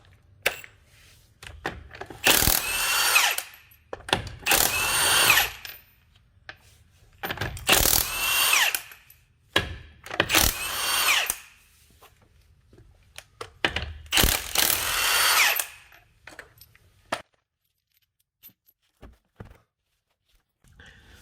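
A power tool on 19 mm lug nuts of a Volkswagen Eurovan wheel: six loud ratcheting bursts of about a second each, separated by short quiet gaps, with a softer rattle near the end.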